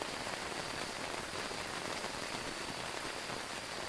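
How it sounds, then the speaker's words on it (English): Steady rain falling on tents in the video game Phasmophobia, a dense even hiss of drops with no breaks and no voices. "the sound of the rain on the tents though is so cozy"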